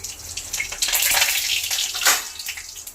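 Whole cumin seeds hit hot oil in a pan, giving a bright, crackling sizzle that swells loudly for a few seconds, alone without voices.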